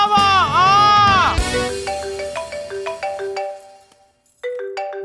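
A mobile phone ringtone plays as a bright, melodic run of repeated synthetic notes after a short warbling opening, pausing briefly before it resumes, loud and close.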